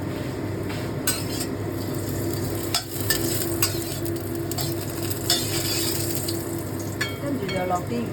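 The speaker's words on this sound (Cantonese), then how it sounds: "跟住落啲薑落去啦，" Ginger dropped into a hot pan for a winter melon, tomato and grass carp soup, sizzling in a steady, close crackle, with occasional clinks of a utensil against the pan.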